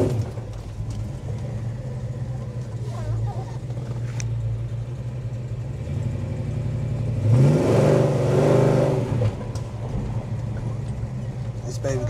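A 1970 Chevy Chevelle with a 454 SS engine rumbles steadily, then swells into a louder rev around the middle as it accelerates before easing back, with talk heard over the engine.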